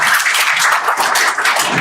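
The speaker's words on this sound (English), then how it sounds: "let's go ahead and give a round of applause" A conference audience applauds as a speaker takes the stage for an AI cybersecurity talk, loud dense clapping that is close and continuous throughout.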